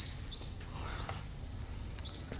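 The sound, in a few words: baby birds chirping in a nest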